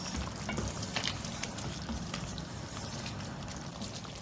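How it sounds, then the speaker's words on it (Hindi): Mutton bhuna fries in oil in a pot with a dense, steady sizzle and crackle, and light stirring adds soft scrapes. Close and moderately quiet, with no voices. "अब इसकी अच्छी सी भुनाई करूँगी, खूब ऑयल वगैरह निकल के आता है इसका।"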